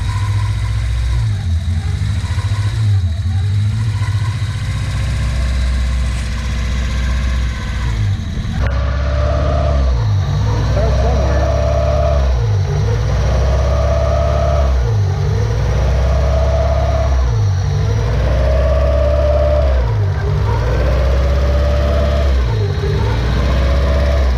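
A newly built car engine idles and then revs repeatedly, with loud rhythmic rising and falling surges repeating every few seconds after a steady opening stretch.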